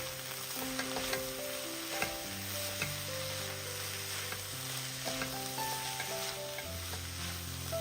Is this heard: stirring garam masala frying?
yes